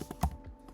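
A few quick clicks of typing on a computer keyboard, close and brief, with nobody speaking over them.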